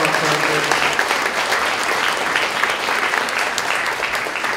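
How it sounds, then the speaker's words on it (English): Sustained applause fills a room at a senior center community event, as a crowd claps steadily and loudly to thank partners, dense and continuous throughout. "give a nice round of applause to all of our partners"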